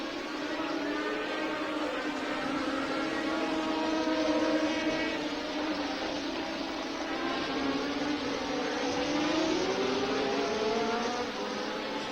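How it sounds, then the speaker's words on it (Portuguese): Formula 1 race cars at the 1977 Brazilian Grand Prix at old Interlagos, their engines making a steady, continuous roar with rising and falling whines as cars pass, loud and sustained throughout with no talk over it. "James Hunt vai se aproximando de José Carlos Passe nessa terceira volta do Grande Prêmio Brasil."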